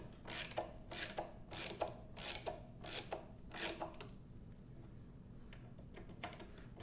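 Screws being tightened on a Bigsby B7 vibrato during its install on a 1964 reissue Gibson ES-335, with six rhythmic, evenly spaced bursts of close metallic scraping and turning, followed by quieter, sparser clicks.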